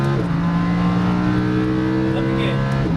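Lamborghini Huracan LP610-4 on a racetrack, its engine note climbing under acceleration, then briefly dropping and rising again as it upshifts, loud and close, with a coach talking over it.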